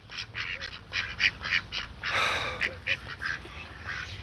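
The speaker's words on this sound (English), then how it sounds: "Happy ducks." Several ducks quack in short, repeated bursts close by, with a louder flurry of overlapping quacks and wing or water splashing midway, over a faint outdoor background.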